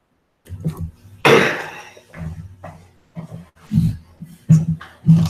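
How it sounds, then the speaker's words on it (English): A person coughs several times at close range in short, separated bursts, one sharp loud cough followed by lighter throaty coughs and breaths, spread unevenly with brief pauses between them and no speech. "Sorry, I didn't mean to cough on you."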